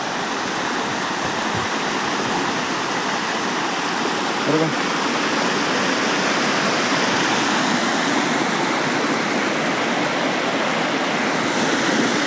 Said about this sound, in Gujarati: આ મિની ઝરણું છે નાનું ઝરણું પેલી બાજુ મોટું ઝરણું પણ છે